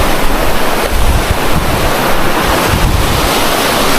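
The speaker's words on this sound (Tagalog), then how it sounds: "Sobrang lakas talaga ng alon." Strong ocean waves surge and crash continuously at sea from a small boat, mixed with heavy wind buffeting the microphone, loud and unbroken with no voices.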